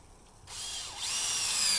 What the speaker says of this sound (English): is putting in the 16 screws